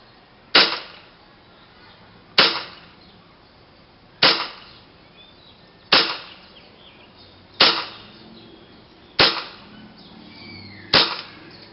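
Tokyo Marui airsoft gas gun with a velocity reducer fired seven times in slow, evenly spaced single shots, each a sharp crack with a short hissy decay, close and clear over a quiet room.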